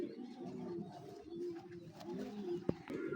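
A racing pigeon coos softly in low, rolling murmurs, fairly quiet and close, with a brief sharp knock near the end.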